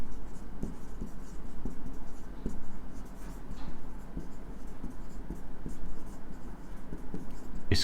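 Writing a line on a board during a lesson, heard as a steady run of close scratching strokes with small sharp taps, continuing over low background noise for several seconds.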